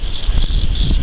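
Strong wind buffets an outdoor campsite, a loud continuous roar with gusty rumble and microphone buffeting, no voices.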